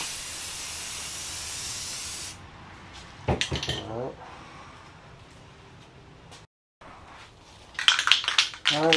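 A spray can hisses steadily while painting a Yamaha Vstar 1300 motorcycle fairing, then cuts off. Afterward come a few close clinks and handling sounds, a short silence, and then another burst of rattling noise.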